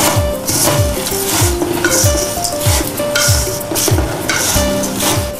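Puffed rice is stirred in a pan, giving a loud, continuous rustling crackle with rhythmic scraping strokes against the metal, heard close up with no speech.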